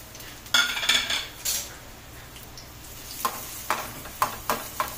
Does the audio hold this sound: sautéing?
yes